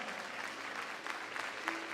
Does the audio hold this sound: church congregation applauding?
yes